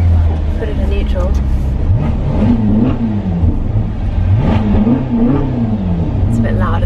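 A Ferrari engine idles with a deep rumble, then revs up twice in neutral in rising and falling exhaust swells, heard close by.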